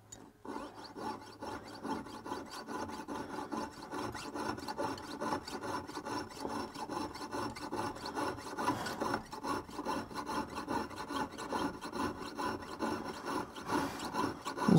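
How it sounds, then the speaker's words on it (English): Hand saw cutting a metal tsuba sword guard, a steady close-up rasping stroke repeated rapidly and evenly, quiet and alone. "you saw as close as you dare, depending on where you're at in terms of learning to control your saw."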